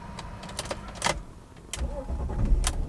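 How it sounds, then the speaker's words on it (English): A manual-transmission car is restarted after stalling: a few clicks and whirring starter bursts, then the engine catches and settles into a low, close rumble that grows slightly louder. "And start the car back up."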